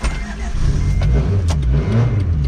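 A turbocharged Honda Civic wagon engine with a new exhaust idles with a deep, rumbling exhaust note, revving up a couple of times, loud and close throughout.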